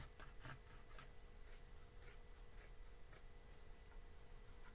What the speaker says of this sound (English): Once again, I'm just cutting as straight as I can without having any lines on